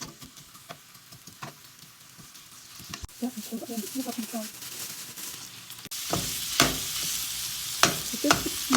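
Chopped onion fries in hot oil in a pan, with a soft sizzle that grows louder and brighter partway through, dotted with occasional clicks and scrapes of stirring; quiet throughout.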